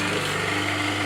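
A BM16 sliding table morticer motor starting on oak, giving a steady close mechanical hum with strong low tonal bands, heard alone with no talking.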